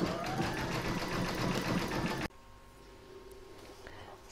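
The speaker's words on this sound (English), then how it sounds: "Next is round number 10, and that's going to do the satin stitch around these 3 edges." An embroidery machine runs a satin stitch around the edges of an in-the-hoop table topper, a fast, loud, close rhythmic whir of rapid needle strokes that stops abruptly halfway, leaving a faint quiet hum.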